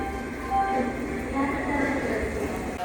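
An Ernakulam to Pune passenger train rolls on with a steady, moderately loud rumble and faint rail hum throughout, heard from inside the coach.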